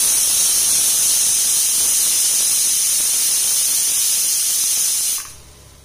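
A pressure cooker cooking chicken curry lets out a loud, steady, high hissing whistle of escaping steam for several seconds, then cuts off abruptly into near quiet.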